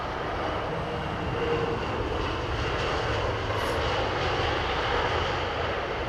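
An aircraft arriving at foggy London Heathrow Airport gives off a steady, broad engine roar that stays fairly even and moderately loud throughout, with no one talking.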